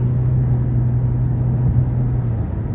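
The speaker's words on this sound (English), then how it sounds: "And that exhaust just sounds so good." A 2023 Toyota Camry TRD V6 cruising on an interstate gives a steady, low exhaust drone with road rumble, constant and fairly loud, and no talking over it.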